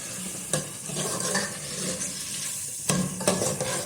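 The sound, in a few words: green chilies frying in a pan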